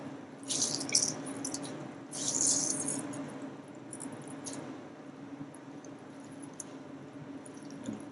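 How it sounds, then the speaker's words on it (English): Soaked gelatine squeezed by hand to wring out excess water, giving soft wet squelches and drips in a few short bursts near the start over a low steady background. "Make sure you remove as much excess moisture as possible. So really give it a good squeeze."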